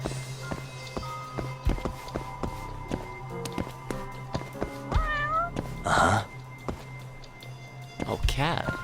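A cat in the Judgement video game on PS5 gives a few meows, one drawn out and one short, over clicking footsteps and tapping game sounds, with a person briefly talking.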